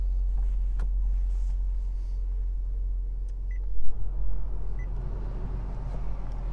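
A 2021 Honda HR-V EX engine turns over after a push-button start, a low steady idle rumble with a brief swell as it catches, plus a couple of soft chimes inside the cabin.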